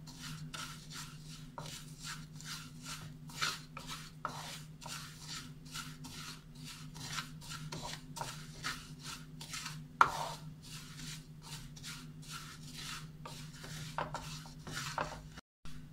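Vermicelli dry-roasting in a pan, stirred with a spoon in steady rhythmic scrapes and rasps against the metal, with occasional light knocks, all close and fairly quiet.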